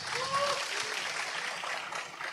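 Audience applause at a political gathering: steady clapping from a crowd throughout, with a speaker's voice briefly audible at the start.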